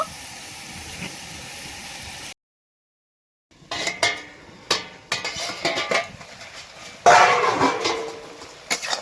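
A metal lid set onto a pot of mixed winter vegetables cooking without water, with clattering clinks and scrapes, a steady hiss of steam, and a brief silent gap before the sharper knocks.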